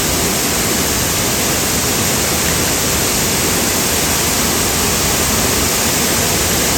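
A waterfall roars as a loud, constant broadband rush of falling water, close and unbroken from start to finish, with no voices over it.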